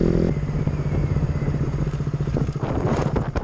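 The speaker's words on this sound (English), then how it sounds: "try some uphill wheelies." A motorcycle labours uphill while popping wheelies, its engine chugging in a rough, pulsing rhythm up close, with rattling clatter and a surge of revs near the end.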